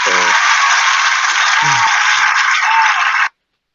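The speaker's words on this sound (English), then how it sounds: "just a big applause for everyone" Audience applause at the close of an online networking workshop panel, a dense steady clatter of clapping for about three seconds before stopping abruptly, with brief voices mixed in.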